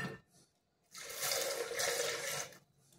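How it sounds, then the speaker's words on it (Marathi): Coconut-blended water from a mixer poured into cooking masoor dal in a home kitchen: a faint splashing pour swells for about a second and a half, then stops, with quiet pauses before and after. "खोबऱ्याचं ते मिक्सरचं पाणी होतं तेच टाकले आतमध्ये"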